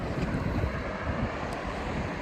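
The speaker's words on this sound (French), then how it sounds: "il y a énormément de vent, je sens que la qualité va être mauvaise" Strong wind buffets the microphone outdoors in steady, loud, continuous rumbling gusts that fill the whole stretch, with no voices over it.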